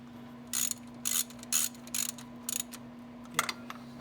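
A ratchet snugs bolts on the water pump of a 2000 Mustang GT, producing five quick bursts of close clicking at an even pace, then a shorter pause and one final burst over a faint background hum.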